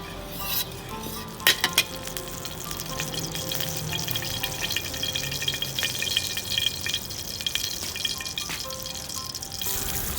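Garlic stir-frying in hot oil in a wok for Thai rad na noodles: a steady close sizzle with scattered clinks and scrapes of a utensil against the pan, no talking.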